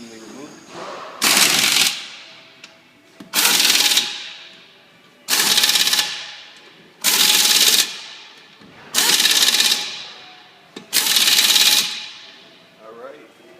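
A power impact wrench seats wheel lug nuts during a tire change, firing six loud, close, buzzing bursts of about a second each, evenly spaced with short pauses between them.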